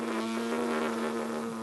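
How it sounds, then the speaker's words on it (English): Trombone player's lips buzzing on their own without the instrument, a steady, continuous, fairly loud pitched drone held throughout with no talk. "start to bring your lips closer together very slowly. They'll reach a point when they should start to buzz."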